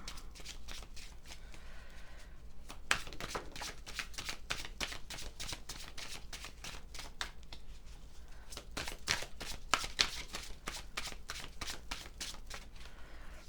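Tarot cards are shuffled by hand in quick, dense riffling bursts of papery slaps and flutters, continuous and close for over thirteen seconds, with no talking.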